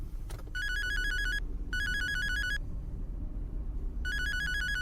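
A mobile phone rings inside a moving car, sounding as three bursts of a bright electronic ringtone over a steady low road rumble, with no voices.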